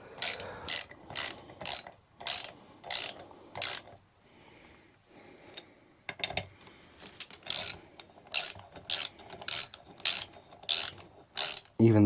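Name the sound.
hand ratchet tightening jack shaft bolts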